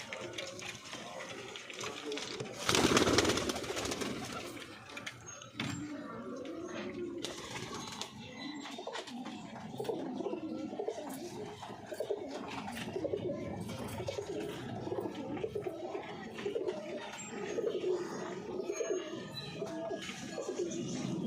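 Released pigeons cooing in soft repeated calls close by, with a loud rustle of wings or handling early on and someone talking over much of it.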